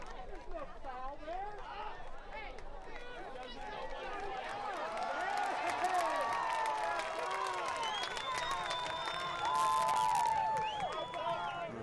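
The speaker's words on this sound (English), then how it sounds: "This crowd is into it here in Lexington." A soccer stadium crowd in Lexington roars and cheers continuously at a distance, a broad wash of voices swelling midway, with a play-by-play commentator talking over it.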